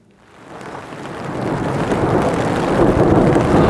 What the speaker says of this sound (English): As you can tell, it just started to rain